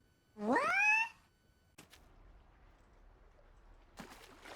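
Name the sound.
cat meowing in video game Outpath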